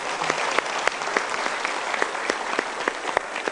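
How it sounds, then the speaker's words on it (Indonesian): Applause from a seminar audience fills the room with steady, dense clapping that carries on evenly from start to finish without a break. "kita berikan tepuk tangan dulu"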